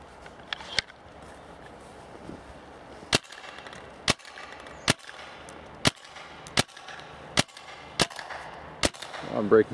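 A Tippmann A5 paintball marker with a 16 inch barrel fires single shots, about nine sharp popping cracks spaced roughly a second apart, close and crisp over quiet outdoor background, with a low voice briefly at the end.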